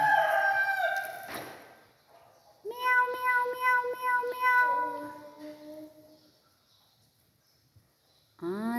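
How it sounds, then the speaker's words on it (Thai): A cat lets out several drawn-out, wavering meows nearby, long and insistent, separated by brief quiet gaps. "ตื่นแล้วได้ยินแมว"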